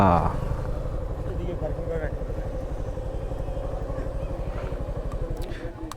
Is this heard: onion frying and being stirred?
no